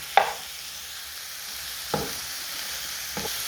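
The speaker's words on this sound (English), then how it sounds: "I'll mix this until my mushrooms are softer" Oyster mushrooms frying in a pan with salt, a soft continuous sizzle broken by three short scraping stirs of a utensil, spaced about every second and a half, close and moderately quiet.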